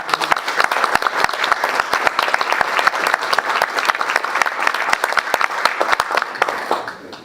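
Sustained applause from an audience honoring historic preservation honorees at a summit, steady dense clapping with many distinct sharp claps throughout, tapering off at the very end.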